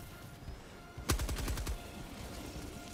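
A rapid barrage of video game gunfire: a sharp volley of about half a dozen quick shots in a tight burst, loud against a quiet background that settles again after the shooting.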